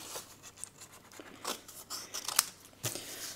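Scissors cut out a strip of adhesive pad in a few short, snipping crunches with brief pauses between cuts, close and fairly quiet, with no talk.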